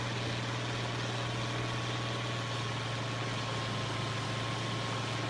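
A tractor engine in the farming video game Farming Simulator 25 drones steadily at a constant idle-like pitch, thin and buzzy like a small lawnmower, with no talk over it.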